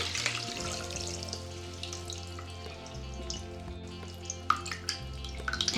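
Tea pours and trickles through a strainer in a steady stream, with small splashes and drips toward the end over a soft, tonal background.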